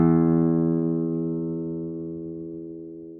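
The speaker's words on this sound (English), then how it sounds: "So this would be a low pitch, which has a smaller number of vibrations per second." A single low-pitched musical tone sounds alone, a steady rich harmonic note that slowly fades over about three seconds.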